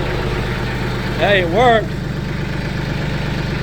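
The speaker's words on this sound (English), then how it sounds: "That's how I'm moving my tractor with the grapple." A tractor engine idles steadily with a low rumbling drone while a trailer is moved using a grapple-mounted hitch, close and continuous, with someone talking briefly over it.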